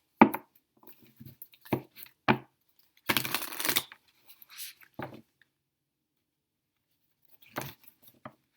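Close, quiet shuffling of a deck of starseed oracle cards, heard as soft riffles and slaps in short bursts with one fuller riffle in the middle, then quiet gaps.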